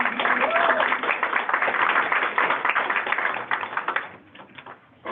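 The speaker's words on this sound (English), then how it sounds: "give them another round of applause" A crowd at a prevention strategies event breaks into sustained applause, a dense wash of clapping hands that holds steady for several seconds before thinning out near the end.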